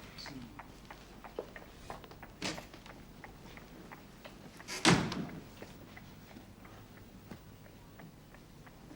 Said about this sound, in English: shut the door when you go out